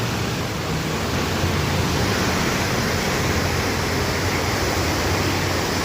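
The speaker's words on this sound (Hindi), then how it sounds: "कितने फोर्स से ये पानी आ रहा है आजकल" Loud, steady roar of a rushing mountain river in a hill village, a dense continuous wash of noise with no pauses, close by.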